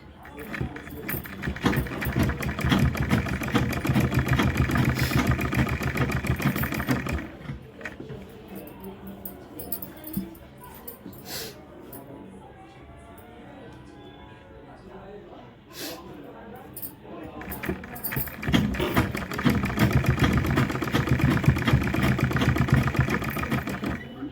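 A sewing machine stitching lace fabric onto a neck design runs in long, close, steady whirring bursts at the start and end, with quieter handling and fabric movement between them.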